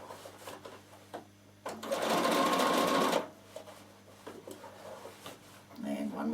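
Sewing machine stitching a knitting bag with a zipper, one loud burst of about a second amid quieter handling noises of fabric being shifted, with a voice talking faintly around it.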